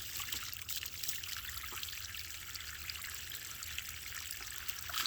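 Water trickling and pouring steadily out of a tapped pool equipment housing, a continuous close splashing stream at low level with no talking.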